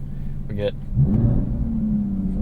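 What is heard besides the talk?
Aston Martin Vanquish exhaust in Sport Plus mode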